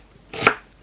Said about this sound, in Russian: Нарезать мелко лучок.